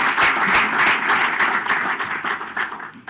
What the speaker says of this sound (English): let's give the organizers and the sponsors a very, very warm round of applause